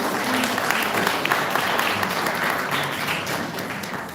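Sustained, even applause from a conference audience fills the room, a steady wash of many hands clapping at a constant level throughout.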